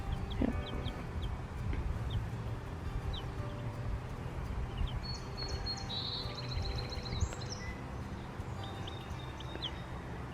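One-week-old chicks forage outdoors, giving faint, sparse high peeps over a steady low background rumble.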